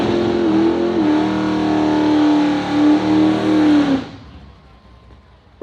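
A Buick-engined wheelie car, 4,000 pounds of Detroit sheet metal with no nitrous, revs loud and close at a wheelstanding championship, holding a steady roar with slight surges before cutting off abruptly into quiet.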